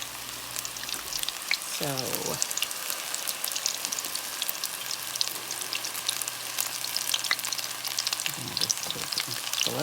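Apple fritter dough frying in a pot of hot oil, an even, dense bubbling hiss like steady rain, with brief scraping as pieces are moved and a short spoken word near the start.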